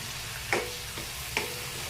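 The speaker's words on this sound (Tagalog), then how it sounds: "Lagyan natin ng patis." Fish sauce splashes into a pan of stir-fried vegetables, giving a steady close sizzle with two brief sharper bursts of hissing and clatter, and no talking.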